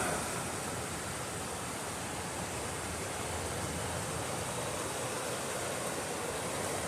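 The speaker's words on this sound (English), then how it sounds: "River's right here." A river in the Sequoia Mountains flows past with a steady, broadband rushing wash. It is constant and even throughout, with no talk over it.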